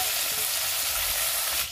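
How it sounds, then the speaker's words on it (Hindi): Onion, garlic and green chilli fry in hot oil in a village kitchen, a steady dense sizzle that holds loud and close for the whole stretch with no talk over it. "तो चलिए दोस्तों, प्याज लहसुन मिर्ची जो है भुना गया है, हल्का और भुनेंगे"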